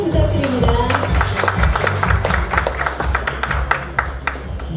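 An audience claps for an honoree at a business award ceremony in an indoor hall, a burst of loud, close applause with sharp individual claps that thins out toward the end.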